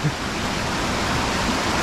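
A fast-flowing creek on a hiking trail rushes close by, a loud, dense, unbroken wash of water noise with no pauses and no talking.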